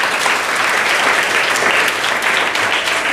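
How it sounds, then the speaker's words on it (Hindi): Loud, dense clapping from an audience of students or families after a child recites a Hindi poem, continuous and close throughout. "बहुत बढ़िया, तालियां।"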